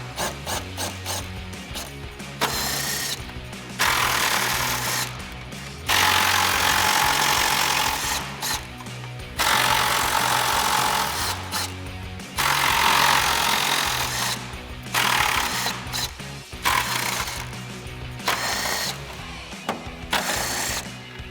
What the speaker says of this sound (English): So we've got our 10mm socket. We're going to get all of those out,